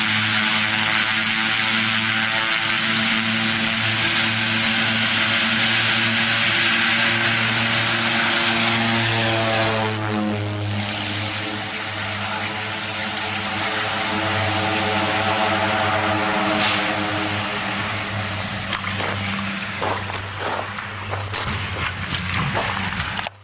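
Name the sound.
aircraft engines during takeoff preparation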